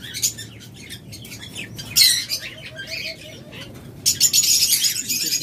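Caged birds at a bird sale, including lovebirds, budgerigars, doves and cockatiels, chirp and twitter steadily, with louder bursts of bright calls and a brief flutter of wings near the start and end.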